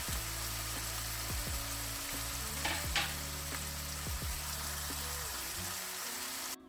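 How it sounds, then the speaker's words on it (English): Beef searing in hot cooking oil for birria, a steady close sizzle and crackle with occasional pops and scraping, no talking. "So I'm searing the meat for 3 minutes on each side."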